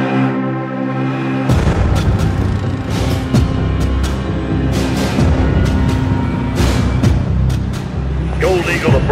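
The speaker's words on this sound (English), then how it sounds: "Security confirms gunfire and at least one explosion in the stadium with multiple injuries" Gunfire and explosions ring out inside a stadium in Call of Duty Modern Warfare III, with a loud sudden onset of dense booms and sharp repeated shots over a rumbling low backdrop, continuing steadily and densely throughout.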